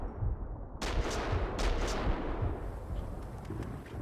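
Gunshots in Max Payne 2 on PC, a burst of sharp reports over a dense rumbling game soundscape, with several shots clustered early and the noisy din continuing loud throughout.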